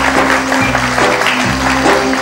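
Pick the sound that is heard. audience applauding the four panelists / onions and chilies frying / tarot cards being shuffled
audience applauding the four panelists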